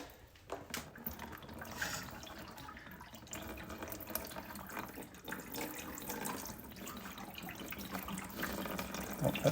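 Water pours steadily from the turbo drain of a Honda CRX. It makes a continuous splashing trickle, fairly close, with no speech over it.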